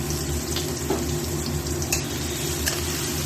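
Chopped onion, garlic and tomato frying in hot oil in a kadai, giving a dense, continuous sizzle with a low steady hum beneath and a few brief splatters; no one speaks.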